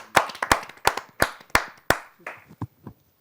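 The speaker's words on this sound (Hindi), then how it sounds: "आइए जोरदार तालियों से उनका हम स्वागत करते हैं।" An audience at a poetry gathering claps in a slow, even rhythm of about ten loud, close claps that thin out and stop.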